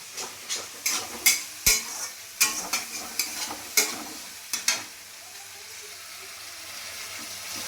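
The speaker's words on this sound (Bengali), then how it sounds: "মশলাটা কষা হয়ে গেছে, তেল বেরিয়ে গেছে, এবারে আমি আলুগুলো দিয়ে দিলাম" Spice paste fries in oil for a potato curry while a spoon scrapes and stirs the pan in a quick series of clinks over a soft, steady sizzle that continues alone at the end.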